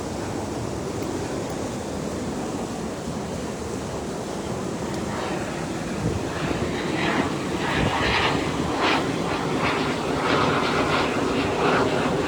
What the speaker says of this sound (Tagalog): Daming eroplano, ano?